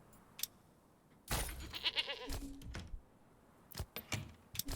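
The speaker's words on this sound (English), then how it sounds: "Goats." In the medieval settlement game Manor Lords, a goat gives a wavering bleat amid clattering and jangling knocks, followed by scattered sharp clicks and taps.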